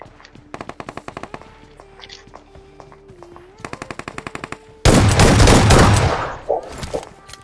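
DBS shotgun fire in the mobile battle game BGMI: evenly spaced rapid shots in bursts, then a loud dense volley of blasts with a long rolling tail, over a faint in-game background.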